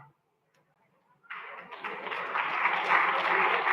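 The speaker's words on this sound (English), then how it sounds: "thank you for clapping there" An audience at a council meeting breaks into clapping after a quiet pause, the applause building and holding steady at moderate volume in a large room.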